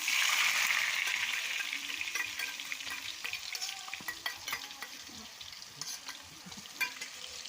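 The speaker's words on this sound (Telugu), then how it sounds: "ఇప్పుడైతే ఈ ఎగ్స్ అనేది ఫ్రై చేసుకుందాం" Liver and egg pieces fry in oil in a pan for country chicken curry, a loud, dense sizzle that eases slightly over time, broken by occasional stirring clinks, with no talking.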